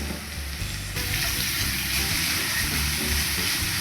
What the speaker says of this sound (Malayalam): സവോളയൊന്ന് സോഫ്റ്റായിട്ട് വരട്ടെ, അതുവരെ വഴറ്റാമേ